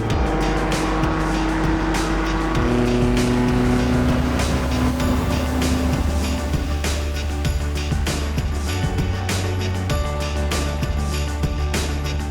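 A race car in a 24 Hours of LeMons endurance race roars loudly and continuously, its engine note rising and falling through gear shifts, with occasional tire noise and no talking.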